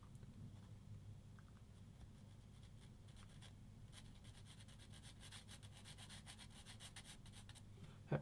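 A file rasps on a small part of a Tamiya SdKfz 222 model kit, giving quiet, rapid scratchy strokes that repeat close up over a low background hum, with no speech.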